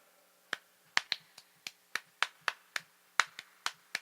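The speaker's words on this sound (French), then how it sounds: "Pouvez-vous arrêter d'applaudir?" A few sparse, separate claps ring out one at a time in an uneven rhythm, about a dozen sharp isolated hits fairly close and clear against a quiet room, more like scattered audience members clapping than a full ovation.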